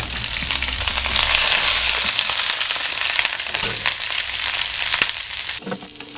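Meat and vegetables frying for chow mein in a pan over medium heat, a loud, continuous close sizzle with occasional stirring clicks and a brief burst near the end.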